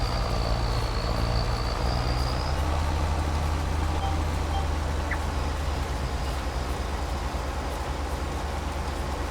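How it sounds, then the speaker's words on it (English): Thunder in Farming Simulator 25 rumbles on without a break: a deep, steady roar with a rainy hiss layered over it, loud and unchanging for the whole stretch. "Rumbling away is the thunder."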